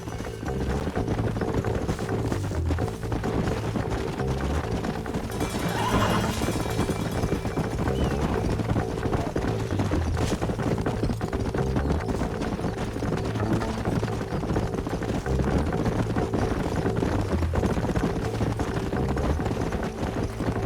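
Horses' hooves clip-clop steadily in Red Dead Redemption, a continuous rhythmic trotting alongside wind and ambient game sound, with no talking.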